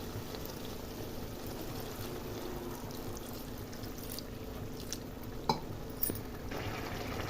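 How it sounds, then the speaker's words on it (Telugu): Water poured into a pot of simmering crab curry, a low steady wash with a couple of brief splashy accents near the end, no talking. "కొంచెం వాటర్ వేసుకుందాం."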